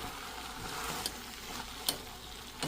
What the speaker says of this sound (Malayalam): വെളിച്ചെണ്ണ ചൂടായി കടുക് പൊട്ടും തുടങ്ങിയിട്ടുണ്ട്